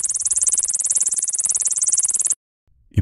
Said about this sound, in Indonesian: dari kerongkongannya keluar dengungan. Seperti suara serangga yang sedang tertawa.